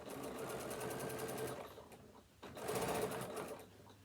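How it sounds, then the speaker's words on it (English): A sewing machine stitches binding onto a fabric tablet holder, running in two fast, steady bursts of rapid mechanical chatter with a short pause between them, close and clear. "So we're just going to stitch like this till we get to the first corner."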